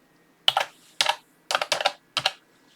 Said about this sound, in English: I will type in the word Teddy.